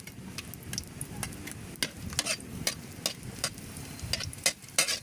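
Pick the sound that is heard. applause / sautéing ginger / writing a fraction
sautéing ginger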